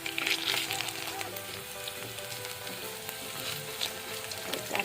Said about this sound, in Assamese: মই এতিয়া কাঠআলু ভাজি আছোঁ